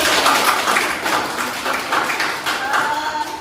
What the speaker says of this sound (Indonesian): Wih, Masya Allah, tepuk tangan.